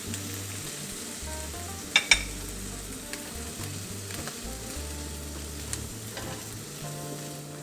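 Leftover roast pork is stir-fried with dark soy sauce in a hot pan, giving a close, steady sizzle broken by spatula scrapes and a couple of sharp metallic clinks, without any talking.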